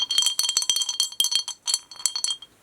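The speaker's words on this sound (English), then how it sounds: "Ah, he's a bell." A small bell on a Pokemon Center Tokyo Christmas ornament jingles rapidly and brightly, many quick metallic rings close to the listener, with no talking.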